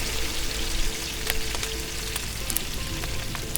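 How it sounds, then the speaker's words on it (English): Passata going into a hot pan with gently cooking oil, a dense close sizzle and bubbling hiss over a few seconds with small spatters and clicks, no talk. "To that I'm going to add 800 grams of passata"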